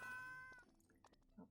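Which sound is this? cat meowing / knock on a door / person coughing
cat meowing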